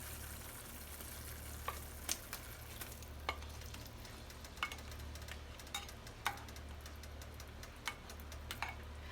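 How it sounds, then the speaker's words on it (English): Pineapple pieces cook in brown sugar and butter in a pan with a soft, steady sizzle. Scattered sharp clicks of stirring break in every second or so. "So I'm going to go ahead and get my pineapples into our pan"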